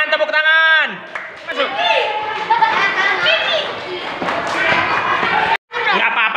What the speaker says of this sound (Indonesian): Tangan, tepuk tangan, tepuk tangan.